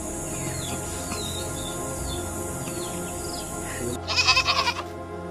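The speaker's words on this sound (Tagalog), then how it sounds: "Anak, kuhain mo ang tupa para sa pag-aalay." A sheep gives a short, loud, wavering bleat near the end, after a stretch of quieter background with faint bird calls in an outdoor setting.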